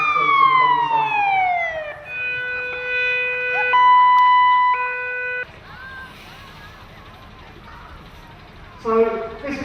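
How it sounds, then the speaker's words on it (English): Bomb disposal team sirens wail with rising and falling tones while approaching an incident exercise at Brooklands, then switch to a steady two-tone pattern, fairly loud over street noise and brief voices. "those sirens you can now hear is the bomb disposal team. They are now approaching."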